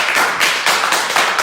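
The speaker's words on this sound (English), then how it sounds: "Please give him a round of applause." Audience applause at a live political gathering in Nigeria, steady dense clapping from a crowd filling the whole moment with a few louder surges, no voices over it.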